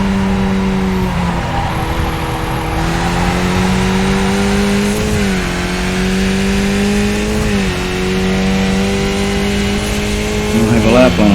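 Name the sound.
race car engine and tires drifting, from a racing video game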